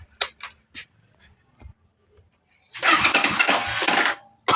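A Euro 150 motorcycle with a misfiring, hard-starting engine cranks and fires up after a few faint clicks and knocks, then runs loud and rough close by.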